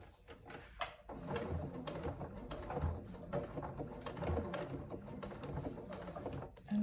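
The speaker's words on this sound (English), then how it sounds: "Just go slow when you're stitching over those zipper teeth." A sewing machine stitching slowly across nylon zipper teeth while sewing a handbag, a quiet, close, steady mechanical whirr with small rhythmic clicks and knocks, no voices.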